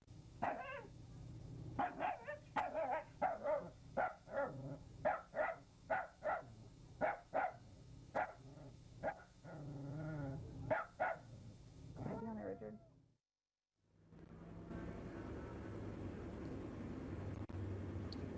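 A small dog barks repeatedly from inside a crate while guarding resources, a long run of sharp close barks followed by a brief silence and then a low steady hum.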